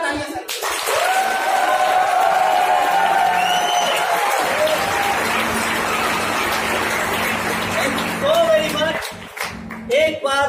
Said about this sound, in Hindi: एक जोरदार तालियां सर।